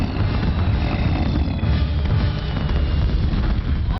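Fireworks go off in an episode of the Avatar: The Last Airbender cartoon, a loud, continuous rumbling of booms and crackles that cuts off abruptly at the end.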